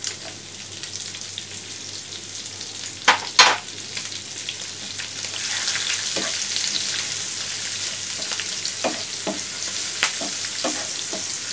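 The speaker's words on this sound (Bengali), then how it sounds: "দিয়ে ভালো করে নাড়িয়ে নিতে হবে" Garlic, green chillies and onion fry in a pan while being stirred, cooking for a cabbage and egg vegetable dish; a steady hiss fills most of the clip, broken by several sharp scrapes and taps from the spatula.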